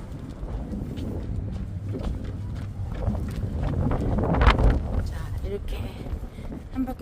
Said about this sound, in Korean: 아 여기 오니까 바람이 좀 들고